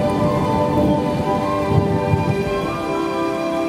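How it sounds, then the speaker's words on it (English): Gentle rain falls steadily and close by, a soft continuous patter with no breaks and no voices. "It's a nice gentle rain"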